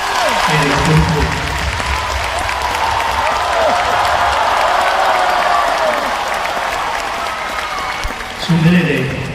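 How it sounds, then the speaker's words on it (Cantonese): A large concert crowd applauds and cheers, a dense, loud roar of clapping filling the space, with a voice speaking over it at the start and again near the end. "每一位藝人咧喺舞台上高都需要嘅，需要嘅係你嘅掌聲"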